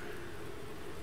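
Steady soft rain hiss from the Farming Simulator 19 video game, a continuous even wash of noise with no talk.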